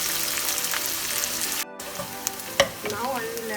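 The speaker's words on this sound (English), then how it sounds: "I will fry the onion until it's not getting golden." Onion frying in hot oil in a pan for a Bengali fish curry, a steady bright sizzle with a brief pause and a few sharp pops and clinks from stirring.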